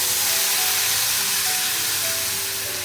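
Milk poured into roasted sooji flour in a hot pan for sheera erupts into a loud, continuous sizzling hiss that barely fades over the few seconds.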